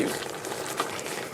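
Large pot of water boiling for a big batch of pasta, a steady bubbling churn close by with a brief splash midway.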